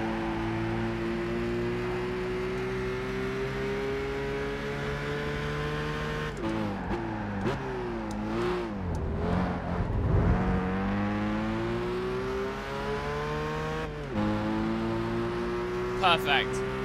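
Race car engine in the Gran Turismo 5 video game, revving loud and steady, with pitch climbing through gears, dipping and wavering mid-way as the car nearly spins out, then rising again; a faint voice may sit beneath it.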